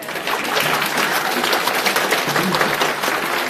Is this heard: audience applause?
yes